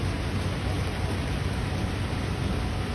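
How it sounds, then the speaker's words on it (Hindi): Heavy monsoon rain pours steadily on a Mumbai street, a dense, unbroken hiss that holds at an even loudness from start to finish with no pauses or distinct drops. "बारिश बहुत हो रही है"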